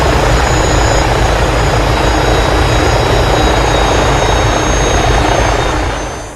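AgustaWestland AW109SP twin-engine helicopter on the ground after a rolling landing, its steady broadband rotor and turbine roar loud and constant, fading slightly at the very end.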